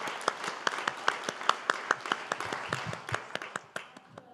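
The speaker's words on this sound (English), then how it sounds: "Please give her a warm round of applause." Sparse, distinct hand claps from a small audience at a design research and education forum keynote, sharp individual claps in an uneven rhythm gradually thinning out.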